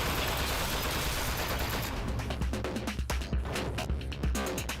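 Rapid turret gunfire from an ambush in the game Aperture Desk Job, a dense, loud rattle of repeated shots that thins into distinct bursts toward the end, with no talk.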